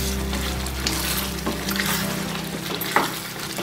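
Paneer butter masala gravy sizzling and bubbling steadily in a pan on the stove, a continuous close frying hiss with faint stirring clinks and no talk.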